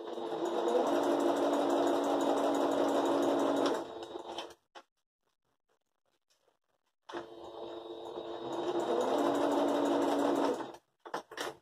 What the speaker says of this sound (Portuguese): Vamos passar a costura desde a pontinha lá embaixo